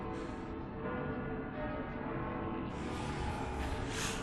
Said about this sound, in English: There's church bells?